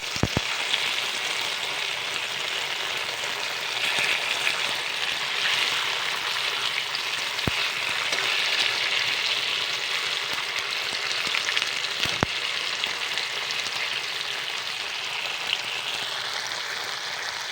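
Hard tofu (tokwa) sizzles and fries steadily in a pan for pancit bihon, with a constant crackling hiss and occasional sharp pops, close and alone without talk.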